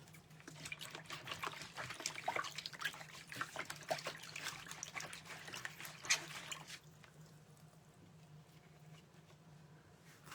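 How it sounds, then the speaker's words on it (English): Hearts being washed under a running tap, a steady trickling, splashing stream of water with soft clatter, louder for the first seven seconds and then quieter, with a low hum underneath. "So let's wash up these hearts."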